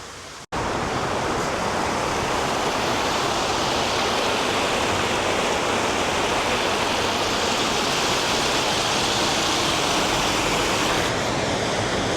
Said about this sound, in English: maybe that's what it is, a little river.